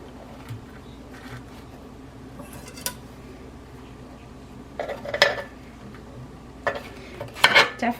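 A spatula scrapes and clinks against the metal pan while lifting a Chicago deep dish pizza, with sporadic loud scrapes toward the end over a faint steady buzzing hum; no talking.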